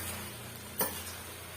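Pasta sautéed with masala in a pan gives a faint, steady sizzle with one brief clink of a utensil midway, and no voices.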